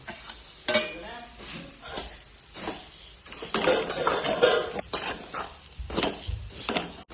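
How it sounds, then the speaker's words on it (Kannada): Shavige vermicelli fries in ghee in a pan for payasa, giving a steady soft sizzle under repeated scraping and stirring clinks of a utensil against the pan, close and moderately loud. "ಚಂದಾಗಿ ಫ್ರೈ ಮಾಡ್ಕೋಬೇಕ್ರಿ, ಇದು ಬ್ರೌನ್ ಕಲರ್ ಆಗತನಕ"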